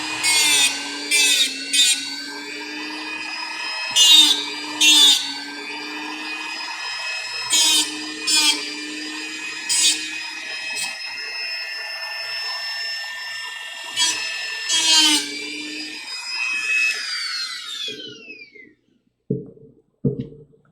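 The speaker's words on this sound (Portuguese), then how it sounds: "cortei aqui o restante da blindagem" A small tool grinds through the metal shield on a Xiaomi Redmi 13 circuit board, a steady whining rasp with repeated short bursts over about eighteen seconds, close and alone, then a few faint clicks.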